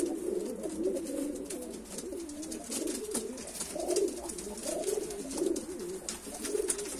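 Tumbler pigeons fighting over a nest in a loft in Tbilisi, Georgia, give steady overlapping cooing and throaty calls throughout, close and moderately loud with some flutter and scuffle underneath.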